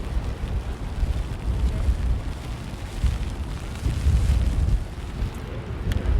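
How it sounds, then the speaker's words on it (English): Strong gusting wind outdoors in Boston, a heavy low rumble and buffeting roar against the microphone that swells and eases without a break. "I don't know if you can hear that or not, but the wind is crazy right now."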